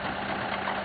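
Engine of a drilling rig running with raised revs, a steady droning rumble heard alone for under a second, moderately faint.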